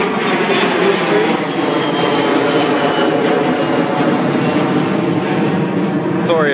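An airplane passes low overhead beside an airport, a loud, dense roar of engine noise that fills the whole stretch evenly and close by.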